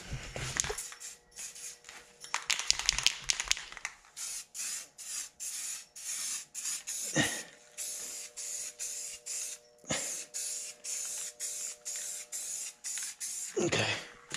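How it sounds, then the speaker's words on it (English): Guide coat is sprayed over body filler on the bodywork of a 1969 Dodge Dart in a series of short aerosol bursts, some brief and some longer, close by and fairly quiet, with no talking. "I'm going to put a guide coat on here and figure out where my spots are."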